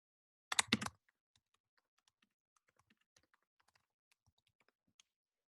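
Computer keyboard keys are struck in a brief loud cluster at the start, then a sparse scatter of faint, separate clicks follows in near silence.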